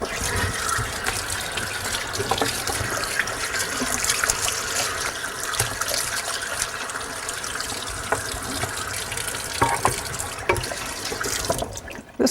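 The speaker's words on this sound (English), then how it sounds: "I'll often rinse them off just to clean things up a little bit." Tap water runs steadily into a sink as freshly butchered meat is rinsed, a continuous close hiss and splash with faint irregular drips and no talking.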